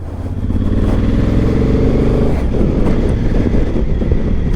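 A hire motorcycle's engine runs steadily during a test ride, a loud continuous low rumble with some wind noise, heard close and without talk.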